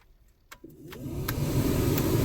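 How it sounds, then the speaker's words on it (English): A GMC vehicle's cabin blower fan spinning up on its low setting, a soft click followed by a rising, steady airy whoosh close by, with no talk. "All we're going to listen to is a fan from low to high."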